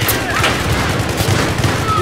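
Gunfire in the shooter game Battlefield 3, with shotguns in play: a rapid, busy stream of loud shots and booms filling the whole moment, with faint voice chatter mixed underneath.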